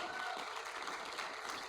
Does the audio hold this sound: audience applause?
yes